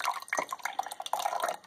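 Kombucha vinegar with a SCOBY on top is poured in a short, splashy trickle, close and fairly loud with uneven gurgles.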